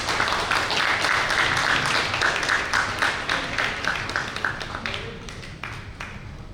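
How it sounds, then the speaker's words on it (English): An audience gives a round of applause at a Constitution Day celebration, steady dense clapping that fades out over several seconds. "so please kindly put round of applause."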